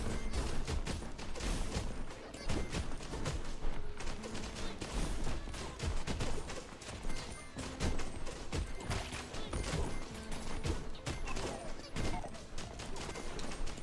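In the video game Undermine 2, bombs explode in a dense, rapid barrage of sharp, crackling blasts that rattle on almost without pause for the whole stretch, loud and close.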